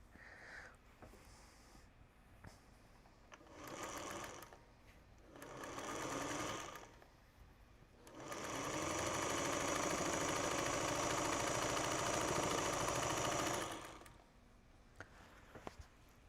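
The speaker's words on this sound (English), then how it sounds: "we're just going to keep chain stitching away." A sewing machine chain-stitches quilt pieces in short whirring bursts, then runs steadily for about six seconds before stopping, with faint handling clicks between runs.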